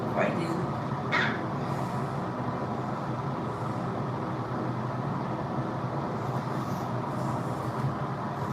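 A train passes nearby as a steady, broad rumble that holds at an even level throughout, with no clear change in pitch.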